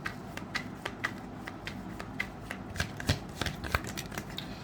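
Tarot cards being shuffled by hand before one more is drawn: steady rapid riffling with crisp flicks and taps, close and fairly quiet, with no talking.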